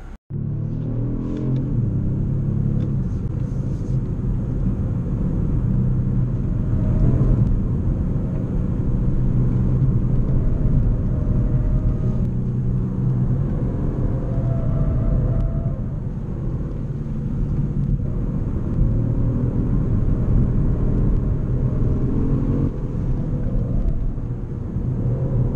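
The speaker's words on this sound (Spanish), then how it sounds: "vamos a ver cómo se comporta el Kia Stinger en la pista" Kia Stinger GT 2018 sports car driving on a race track in California, a loud steady engine roar with deep rumble and rising revs, sustained throughout without a break.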